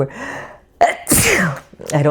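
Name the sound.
sneeze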